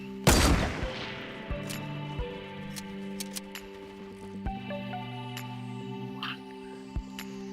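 Gunfire in the Fortnite video game, played on console: one sharp, loud shot bursts near the start, followed by sparse, quieter clicks and impacts over a faint tonal game background.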